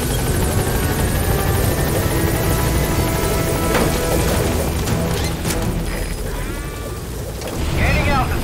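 A support helicopter from the Metal Gear Solid V: The Phantom Pain game roars steadily with a thick rotor wash throughout, under battlefield noise and brief radio-style chatter.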